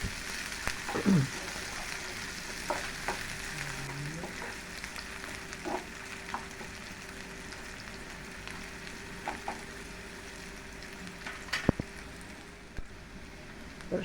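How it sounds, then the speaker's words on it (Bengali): Chopped onions and chopped garlic fry in a pan and are stirred, giving a continuous close sizzle broken by occasional scraping strokes and a sharp clink near the end, with no talking. "পেঁয়াজ কুচি, নাড়াচাড়া করতে হবে।"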